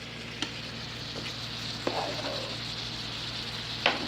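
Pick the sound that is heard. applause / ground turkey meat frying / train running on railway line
ground turkey meat frying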